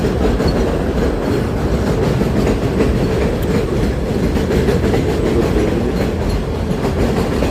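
A train rolls into a large New York railway station with a steady, loud rumble and a rhythmic clickety-clack of wheels on rails, continuous throughout with no voices.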